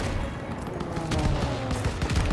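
Dense gunfire and fusillade from a World War II battle in Call of Duty WWII, with steady bursts of shots over continuous battlefield noise, close and loud throughout.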